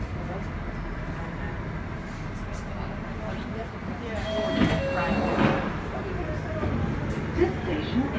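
A London Underground Northern Line train sits at Camden Town station with a steady low rumble and hum. It swells slightly in the middle, and a voice speaks over the noise.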